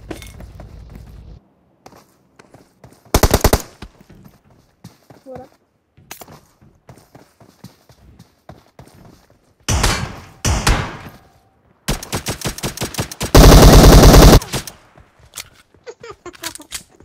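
Bursts of M762 rifle and pistol fire in PUBG Mobile, with loud rapid volleys around four, ten, twelve and fourteen seconds, separated by quieter stretches of footsteps and game sounds, and a person talking between the shots.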